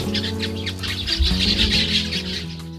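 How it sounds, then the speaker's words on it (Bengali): Long-tailed grassbirds and other grassland birds chirp and twitter continuously over a low steady hum, with busy overlapping calls throughout. "এদের কিচিরমিচিরে সরব থাকে পুরো ঘাসবন।"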